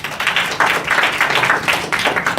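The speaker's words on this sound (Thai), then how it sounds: "ขอเสียงปรบมือให้" A crowd claps together in a steady, dense patter at a corporate coaching training session, continuous and fairly loud for the whole stretch with no voices over it.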